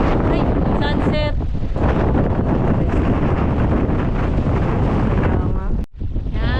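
Strong wind buffets the microphone on Mount Brigino in Bulacan, a loud roaring rush that drowns most other sound, with voices briefly heard through it near the start.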